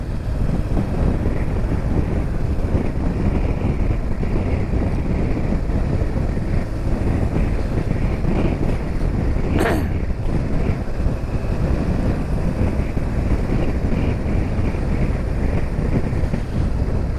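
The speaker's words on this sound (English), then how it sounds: "And it's windy." Strong wind on the Scottish north coast buffets the microphone in a steady, loud roar that lasts throughout, with no other clear sound on top.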